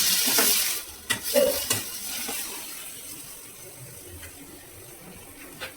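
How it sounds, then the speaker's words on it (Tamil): Chopped potato and brinjal fry in oil in a kadai while a spoon stirs them. Scraping, clattering strokes come in bursts over a soft, continuous sizzle. "நறுக்கி வச்ச உருளைக்கிழங்கு கத்திரிக்காவை கடாயில் போட்டாங்க."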